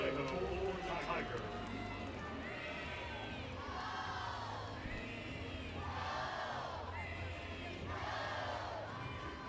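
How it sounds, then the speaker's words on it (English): Crowd applauding and cheering along the first base line at an NCAA softball regional game between SE Louisiana and LSU, a standing ovation for a departing pitcher; the sustained roar rises and falls in waves, with an announcer talking over it. "Sydney Berzon taking over for Ashley Vallejo, who gets a standing ovation from the crowd up the first base line"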